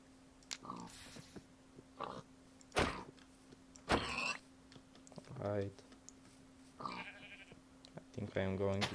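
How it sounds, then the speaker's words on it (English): Minecraft sheep bleat a few times at moderate loudness among game clicks and effects, while a person talks over parts of it. "I'm going to get just one more sheep for the bed, and we'll stop there."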